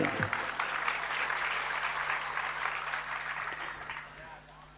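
An audience claps steadily during a sermon, a continuous crowd applause heard at moderate distance that fades gradually toward the end.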